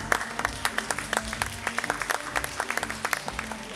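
An audience applauds to welcome a guest at an evening calendar launch event, rapid dense clapping from a crowd filling the room at moderate level, steady throughout with no talk over it.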